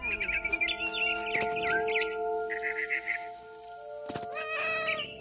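A cat meows in the video game What Remains of Edith Finch, with short chirping bird calls and a steady musical tone, the meows coming in a few clear bursts.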